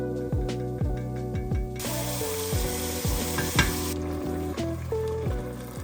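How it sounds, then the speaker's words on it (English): Refried beans fry in bacon grease in a pan, a loud continuous sizzle with a surge of hissing partway through, close up and without talk, over an odd regular pulsing hum. "let it heat up, and then put the beans in"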